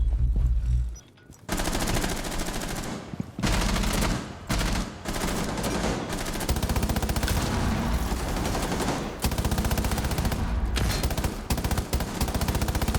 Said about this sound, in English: Let me just make sure that Maestro's not like just gunning everyone down, hip fire or anything.